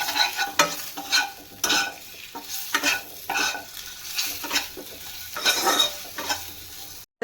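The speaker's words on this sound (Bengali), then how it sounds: "এভাবে উল্টে পাল্টে একটু ভেজে নিচ্ছি" Spices with turmeric and salt fry in a pan for a cabbage curry, a steady sizzle broken by close, repeated scraping stirs of a spoon against the pan.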